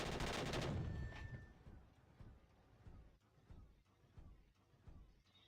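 Weapon rounds firing in the War Robots game during a test-server match, a loud blast followed by a rapid, rhythmic stream of dense impacts under faint background noise.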